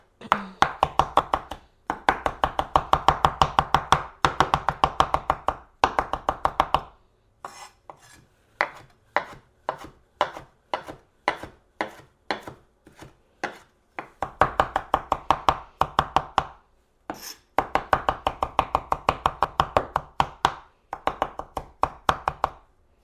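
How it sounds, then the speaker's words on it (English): A knife chops rapidly on a cutting board while portobello mushrooms and chimichurri ingredients are minced, crisp close taps in quick bursts separated by short pauses, running steadily for over twenty seconds with no talking. "I like to mince it up really small"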